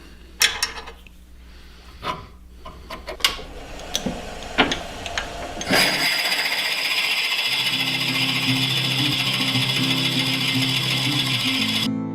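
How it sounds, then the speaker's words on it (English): A few sharp knocks and clicks, then a power drill with a 1-inch bit starts up and whirs steadily through a piece of wood, loud and close, until the end. "now I have my 1-inch bit, and I'm going to drill that all the way through the whole piece here"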